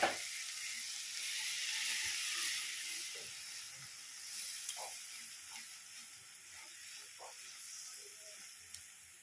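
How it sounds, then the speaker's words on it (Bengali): Poppy seed paste with spices and a splash of water sizzles and hisses in a pan for a rui fish curry with spring onions, a soft steady fry with faint scattered pops and no speech. "পোস্ত বাটাটা দিয়ে আমি আবারও 2 মিনিট এভাবে কষিয়ে নেব"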